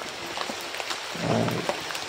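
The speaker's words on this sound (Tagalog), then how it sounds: "nabutan na nga tayo ng ulan tol" Afternoon rain falls as a steady, dense hiss with scattered drop patters, heard close and continuous throughout.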